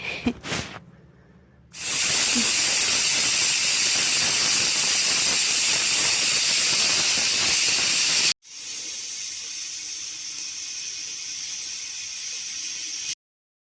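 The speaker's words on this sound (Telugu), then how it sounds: "ఇక్కడనైతే ఒక 3 విజిల్ వచ్చిన తర్వాతనైతే పక్కకు పెట్టేసుకున్నా." A pressure cooker vents steam in two long, loud hissing bursts, separated by a brief cutoff, each ending abruptly.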